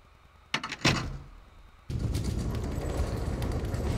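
A door opens in the survival horror game Resident Evil 0, with a sharp double clunk of the latch and mechanism followed by a pause, then a dense, steady rush of room ambience as the new area loads.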